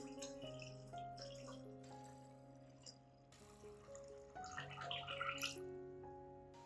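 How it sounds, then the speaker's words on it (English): Water is poured to dilute a rice-based orchid fertilizer solution, a faint trickle and splash heard briefly over soft background music. "Finally, I add 1 liter of water to dilute the solution."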